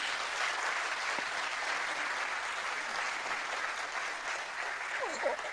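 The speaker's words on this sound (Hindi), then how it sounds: "मैं चाहता हूँ एक जोरदार तालियां बजाई जाए उन सब लोगों के लिए जो गजल गाते हैं।" Loud, continuous audience applause at a film event honouring ghazal singers, a broad even roar of clapping with occasional cheers rising near the end.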